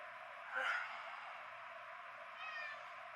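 A house cat lets out a short, faint meow early on, with a softer second call later, against a quiet indoor room.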